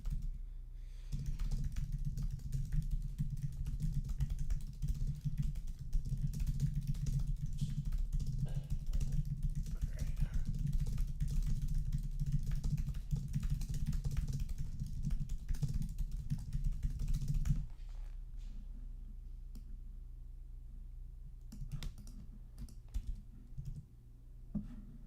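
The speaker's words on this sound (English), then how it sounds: "Any typing noises?" Computer keyboard typing, a dense run of rapid key clicks at a steady level under a low background hum, stopping abruptly two-thirds of the way through and leaving only sparse, quieter clicks.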